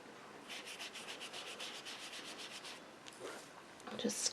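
An ink-loaded sponge is rubbed around the edges of a shimmer paper card, making a series of soft, rhythmic scratchy strokes up close, followed by a few small handling noises.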